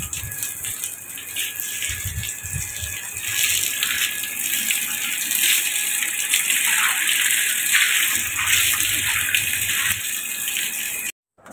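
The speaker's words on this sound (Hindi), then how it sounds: "यहाँ पे मैं घर भी धो रही हूँ" Water splashing and running steadily while a house floor is washed, a close continuous gush with some clattering, carrying on for most of the stretch before cutting off abruptly.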